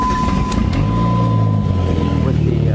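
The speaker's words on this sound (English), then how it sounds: "As you can see, it idles like shit." Dodge SRT-4 engine idling roughly and high after intake manifold gasket work, a loud steady rumbling drone heard up close with no talking over it.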